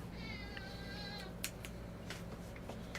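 Faint domestic cat meowing once with a drawn-out, wavering call early on, set against a quiet room hum with a few soft clicks and knocks afterward.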